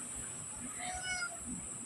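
A domestic cat meows in a short, fairly quiet call of about a second, close to the listener over a steady background hiss.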